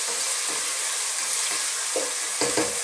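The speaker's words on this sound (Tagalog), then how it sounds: "Stir lang natin siya." Chicken with carrots, fish sauce and ground black pepper is stirred in a sizzling pot for chicken sotanghon soup, with a constant hiss of frying broken by a few scraping stir strokes and no voices.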